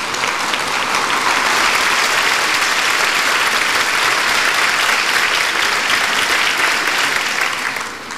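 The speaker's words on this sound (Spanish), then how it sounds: "así que para ellas pido un fuerte aplauso" Loud, sustained applause from a large audience at a Social Inclusion Week ceremony honouring former ministers, a dense steady roar of hands that eases slightly at the very end.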